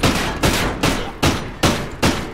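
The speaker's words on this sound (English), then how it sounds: "Sounds so weird when you're shooting in here" Gunfire in the video game Call of Duty: Ghosts, fired in an enclosed space: six sharp, loud shots in a steady rhythm, each burst ringing briefly before the next.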